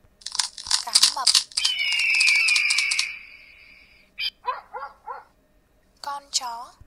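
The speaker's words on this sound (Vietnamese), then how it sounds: "Con chó." A dog bark sound in a children's animal-learning game, heard as a few sharp, close barks and yips after a stretch of electronic tones and effects, with no voice over it.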